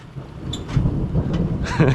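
Thunder rumbles low and continuous during rain at a building site where a porch is being built, with steady rain hiss and gusts of wind noise on the microphone.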